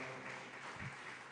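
A church congregation claps loudly in worship, a continuous wash of clapping held at an even level, distant and soft in the mix, with no voices standing out.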